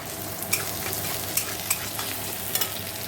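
Crushed garlic and ginger fry in hot oil in a pan, a loud, dense, continuous sizzle with a few crisp utensil taps as they are stirred; no voices.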